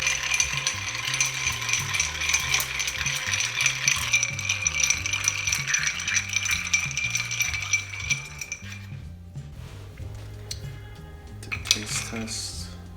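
Ice rattles and clinks steadily against a mixing glass as a gin and vermouth martini is stirred, a close, continuous jangling churn that stops near the end with a few final knocks.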